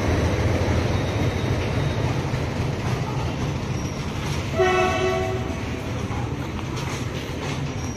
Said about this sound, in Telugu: ఇక్కడ చూడొచ్చు ట్రైన్ ఎలా పాస్ అవుతుంది గోదావరి బ్రిడ్జ్ మీద నుంచి